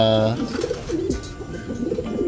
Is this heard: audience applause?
no